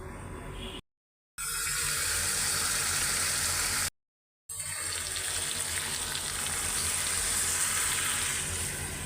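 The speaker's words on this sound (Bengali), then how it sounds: "এখন আলুটা ভাজবো," Potatoes fry in a pan in a home kitchen, giving a steady bright sizzle and hiss close to the pan. The sound drops out twice for a moment, then resumes at the same level.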